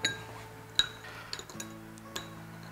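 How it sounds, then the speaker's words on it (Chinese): Marinated shredded pork is stirred in a bowl, with a utensil giving about half a dozen sharp, close clinks against the dish at irregular intervals over a quiet kitchen background. "搅拌均匀就可以了。"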